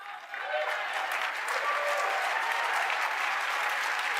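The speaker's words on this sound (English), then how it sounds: "So please, a round of applause for Steve Bannon" A large audience at a political event in Texas breaks into applause, rising quickly after a short pause into a dense, even roar of clapping that holds steady, heard from within the crowd.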